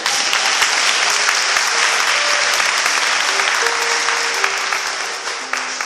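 A church congregation applauds steadily and loudly for about six seconds, with a dense, sustained wash of clapping and no talk over it.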